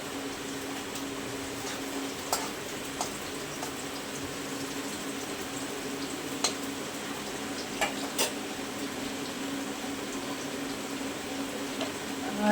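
Green chillies sizzle and crackle steadily in a hot pan while being stirred for Schezwan rice, a continuous close frying hiss with occasional sharp utensil clicks and no talk.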